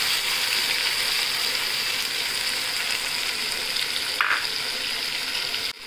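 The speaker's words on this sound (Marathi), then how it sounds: "आपण याला आता 2 मिनिटं चांगलं परतून घेऊया।" Green chilli, garlic and coriander masala with turmeric sautéing in a pan, giving a steady, close, full sizzle that runs the whole way through with only brief stirring noises and no voices.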